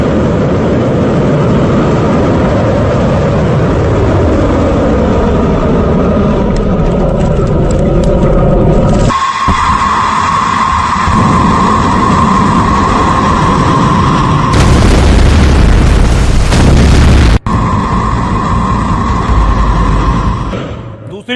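An Iranian missile test launch and explosion produces a loud roaring engine rush and booming blasts across several abrupt segments, with a steady whine in parts, while a voice narrates throughout.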